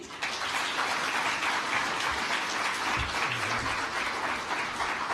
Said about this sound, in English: A hand of applause for His Excellency.